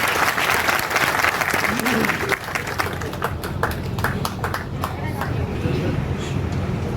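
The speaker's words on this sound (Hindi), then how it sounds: "जनाब बैरिस्टर सदुद्दीन ओवैसी साहब का जोरदार तालियों में इस्तकबाल फरमाएं" A large crowd at a public gathering at Haj House greets a speaker with loud, sustained applause, dense clapping that thins toward the end while voices murmur underneath.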